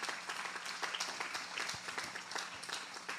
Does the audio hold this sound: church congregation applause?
yes